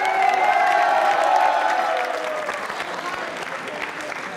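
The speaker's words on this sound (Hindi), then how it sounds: "तालियां जोरों से बजाइए इनके लिए।" Audience applause for a contestant at a Yoga Day quiz show, loud continuous clapping mixed with a few cheers and a voice at the start, fading slightly to steady clapping.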